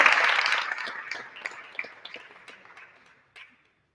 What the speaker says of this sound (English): So please give a warm round of welcome for Haiti the Entrepreneur.